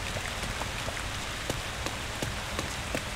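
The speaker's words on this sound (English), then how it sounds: "you can hear the rain" Steady rain falls in a video game, a dense, even hiss with scattered louder drops tapping on a surface and no other sounds.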